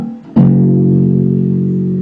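Bass guitar sounding one muted ghost-note click followed by a single sustained fretted note that rings loud and steady, close up with no talking.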